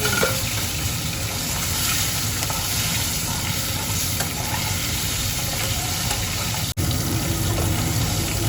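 Eggplant slices fry in a pan with a steady, dense sizzle that holds evenly throughout, close and continuous, with no talking over it.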